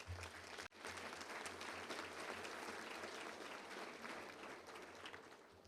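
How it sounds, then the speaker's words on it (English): Audience applause at a Little Rock Touchdown Club luncheon, a sustained wash of many hands clapping at a fairly even level, briefly dipping near the start before continuing steadily. "Paula, let's give her a round of applause."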